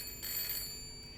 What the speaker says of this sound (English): The phone finds itself ringing.